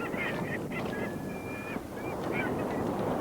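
Seagulls call repeatedly on the coast, with thin, high, drawn-out cries over a steady background of surf and wind.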